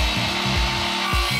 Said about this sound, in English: I'm using a miter saw from a previous renovation project